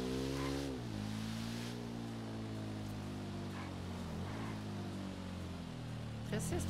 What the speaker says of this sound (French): Pressée cette voiture.